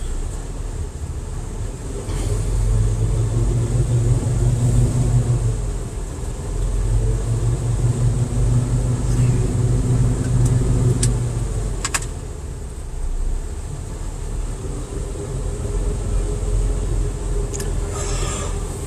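A Prime Inc semi truck idles to build air pressure during a pretrip inspection, holding a steady low rumbling drone with faint hiss and occasional small clicks and thumps.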